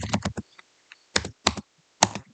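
Quick bursts of typing on a computer keyboard while entering a spreadsheet formula, close and crisp clicks in short clusters separated by brief pauses.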